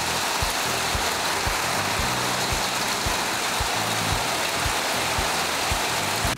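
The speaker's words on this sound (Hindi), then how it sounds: "बारिश हो रही है अभी भी, कैमरा गीला हो रहा है" Steady outdoor rain falls close to the camera as a dense, unbroken wash, with a low rhythmic rumble running underneath.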